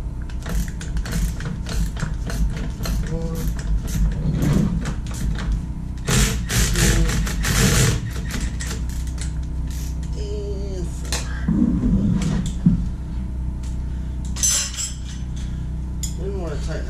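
Ratchet wrench clicking as a nut is tightened on the rear of a 2012 Harley-Davidson Fat Bob, bursts of ratcheting with metallic clinks, close up, with someone talking in between.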